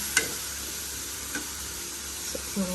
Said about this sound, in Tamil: ஆனியனு, கறி வச்சு பச்சை மிளகா 3 கூட வதக்கிட்டு இருக்காங்க